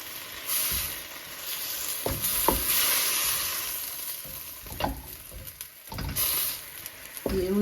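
Tender broad bean leaves fry in a pan with a steady close sizzle and hiss, while a utensil stirs them with occasional scrapes and knocks.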